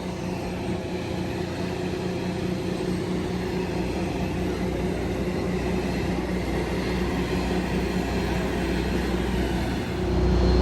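Steady rumbling steam train noise on the Texas State Railroad, with a constant low hum and mechanical drone, loud and continuous, swelling slightly near the end.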